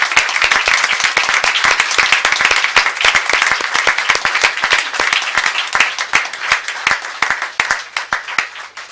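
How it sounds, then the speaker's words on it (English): Audience applauding at a surgeons' diploma ceremony: loud, sustained clapping from a large crowd in a hall, dense and even throughout with slight fading at the end. "a big round of applause to all your supporters"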